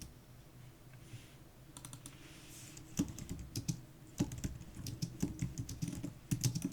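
Keys on a computer keyboard clack in quick irregular bursts, close and clear, growing busier after a quieter start, with no talking.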